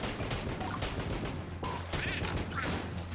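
Rapid gunfire and explosions from the Enter the Gungeon video game, a dense continuous clatter of shots and bursts at moderate level with a few higher chirping effects.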